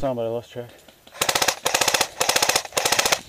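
A Type 97 airsoft gun fires BBs in three rapid bursts of sharp, evenly spaced clacks at close range during outdoor play at Combat City, preceded by a short spoken phrase.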